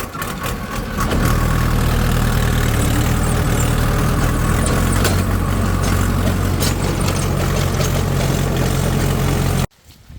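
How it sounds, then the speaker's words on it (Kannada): A tractor engine runs steadily with a rotavator engaged in gear on a tomato farm plot, a loud continuous low rumble that holds for about nine seconds before cutting off abruptly. "ಈಗ router ಗೇರ ಹಾಕೀನಿ. Hydraulic down, race, let's go."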